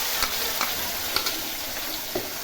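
Ground coconut masala frying in hot oil for a tomato saar, a steady close sizzle with soft scraping stirs of a spoon against the pan every half second or so, no voices.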